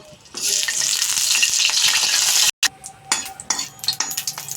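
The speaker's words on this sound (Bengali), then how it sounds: "প্রথমে সরষের তেল দিয়ে নেব, শুকনো লঙ্কা দেবো, লঙ্কা দুটো" Two dried red chillies frying in mustard oil in a pan, a loud steady sizzle that cuts off briefly, then returns in bursts with stirring clinks of a utensil.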